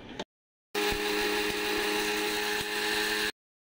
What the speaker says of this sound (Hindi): सारी चीज़ों को हमने मिक्सर के अंदर डाल दिया है, अब इसको अच्छी तरह से ग्राइंड कर लेंगे